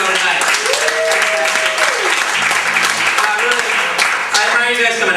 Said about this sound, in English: Give yourself a big round of applause for coming out to the show tonight.